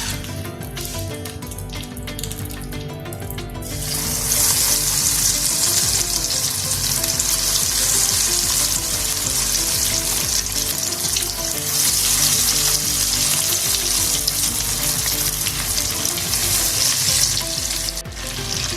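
Chicken zinger strips coated with Kurkure and Lays chips deep-frying in hot oil, a loud, steady sizzle that swells after a few quieter seconds and then holds on unbroken.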